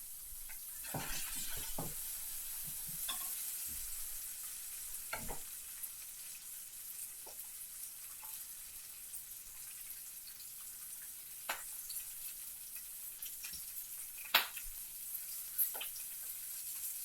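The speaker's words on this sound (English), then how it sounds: "the beans are off and really cooking" Green beans sizzle and crackle in a hot pan while cooking alongside spiced chicken, a faint steady frying hiss broken by occasional sharp pops and stirring clinks.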